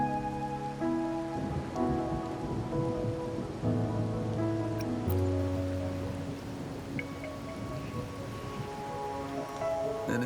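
Steady rain in the video game Wuthering Waves patters over a soft layer of sustained background music, with a faint low rumble; no one speaks.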